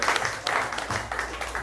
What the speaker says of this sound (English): give a round of applause for Adeola